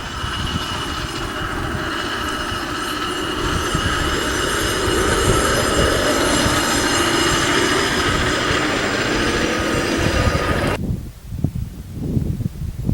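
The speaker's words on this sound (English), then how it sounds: "we got a rail truck coming" Rail truck rolling along Union Pacific track at Aden, New Mexico: a loud, close rumble with high metallic wheel squeal and ringing tones that build and hold, then cut off sharply, leaving faint gusty outdoor noise.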